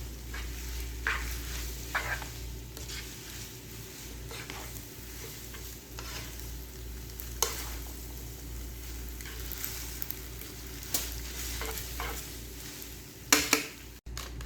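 Spicy chicken vegetable spaghetti cooking on a low flame, with a steady soft sizzle under occasional stirring scrapes and a few utensil clinks near the end, close and quiet.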